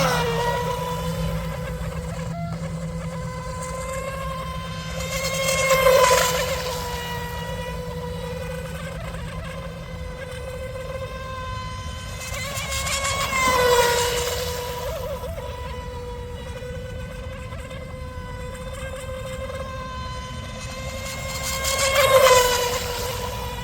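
A small RC boat motor whines steadily at near-full throttle, its pitch rising and falling as it swells louder in passes every few seconds while the boat runs an oval.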